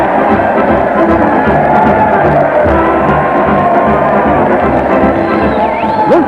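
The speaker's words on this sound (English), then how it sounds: "They're cheering in the streets as Fred Allen leads his weekly parade to the old town hall." A street crowd cheers during a weekly parade led toward an old town hall, a loud, continuous roar of many voices with scattered whistles rising over the dense din throughout.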